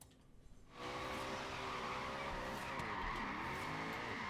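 A Rocket Bunny Lexus RC F drift build in Forza Horizon is thrown sideways with the e-brake, and a loud, steady tire squeal rises abruptly and holds over the revving engine.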